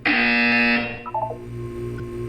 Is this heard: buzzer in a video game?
yes